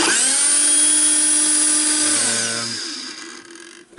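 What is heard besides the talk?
Hilti TE 706-AVR rotary hammer running and hammering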